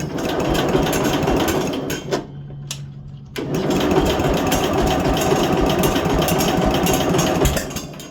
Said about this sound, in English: it's backfiring through the intake.